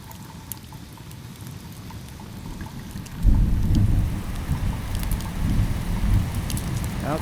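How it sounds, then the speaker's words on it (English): Steady rain patters on surfaces, then a deep roll of thunder rises partway through and rumbles on under the downpour. The storm is loud and continuous, with no voices. "that old rain started falling again, and Herman could hear the thunder rolling"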